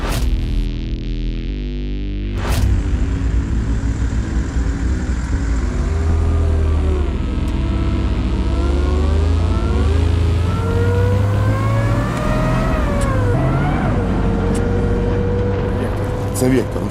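Armoured vehicle built on a Pinzgauer 716-718 base on a test drive, its engine droning steadily and rising and falling in pitch as it revs, loud and continuous, with a voice heard over it.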